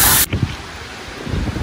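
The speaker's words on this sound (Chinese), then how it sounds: "人家喷上了，真喷的红的" Red paint is sprayed onto a stool being refurbished: a loud, steady hiss of spray bursts out alone, then cuts off after a moment, leaving quieter handling noises and faint background.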